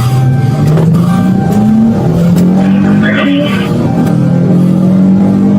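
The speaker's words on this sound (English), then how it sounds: "And then you start the car." A stolen police patrol car starts up and accelerates, its engine droning loudly and rising in pitch through the gears, close and dominant, with a brief squeal or scrape partway through.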